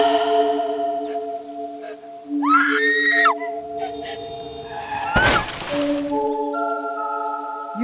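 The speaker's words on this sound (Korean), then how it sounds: "비명을 지르며 그 자리에서 기절을 하고 맙니다" Woman's shrill scream in a Korean horror drama, rising over sustained eerie tonal music, followed by a harsh noisy crash-like burst and lingering drones.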